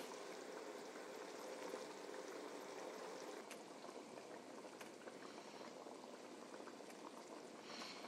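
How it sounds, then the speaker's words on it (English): Meatball sauce bubbles vigorously at a full rolling boil in a pot, a dense continuous gurgle close up, with no voices. "It's boiling."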